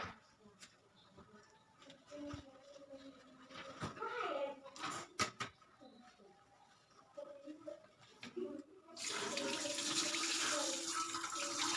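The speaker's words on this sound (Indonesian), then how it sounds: "Bilas dengan air dari ujung kuku hingga ujung siku." Tap water running during surgical hand washing, with scattered splashes and talk at first, then a louder steady rush of water from the faucet near the end.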